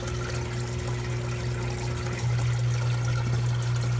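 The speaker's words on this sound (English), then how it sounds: "My main return pump shuts down and the tank starts filling up." Water pouring steadily into an aquarium sump tank after the main return pump shuts down, a constant rushing flow over a low hum that grows slightly louder partway through.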